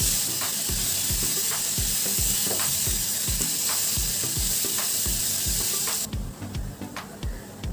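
Momo stuffing seasoned with soy sauce and fresh coriander is stirred in a hot pan, giving a steady loud sizzle with rhythmic scraping strokes of the spoon throughout; the frying hiss drops away near the end while the stirring taps continue.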